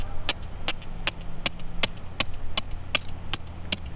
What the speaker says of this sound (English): I'm going to hammer